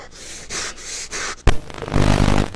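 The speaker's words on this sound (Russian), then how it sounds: "Он начинает дышать все чаще и громче," A puppet character in a Czech children's show breathes faster and louder, with loud rasping breaths in a steady rhythm, then a sharp bang and a harsher, noisier rush of breath close up.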